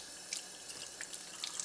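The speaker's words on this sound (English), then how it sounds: "Then to clean the filter, we simply run it under water from both ends" Tap water running steadily over a Jupiter Orion JP-109 water ionizer filter, a soft continuous faucet hiss with small splashes.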